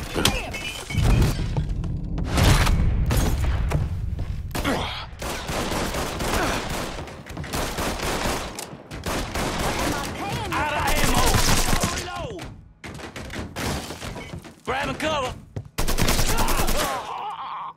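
Gunfire in the Mafia 3 video game: repeated loud shots and bursts with crashes and breaking impacts, mixed with shouted character voices and game sound throughout.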